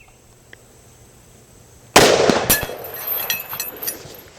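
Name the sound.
Ruger Model 77 MKII .264 Win Mag rifle shooting steel target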